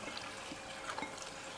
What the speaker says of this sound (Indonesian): Kalau kalian dengar ini kan ada suara gemericik air ya, teman-teman ya. Karena di samping ada akuarium.